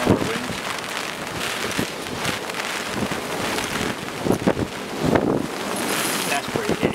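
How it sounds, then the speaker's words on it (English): Rain sets in at a lakeside carp fishing spot, with wind buffeting the microphone and steady patter and gusts under occasional bursts of louder spatter. "Uh-oh, here comes the rain."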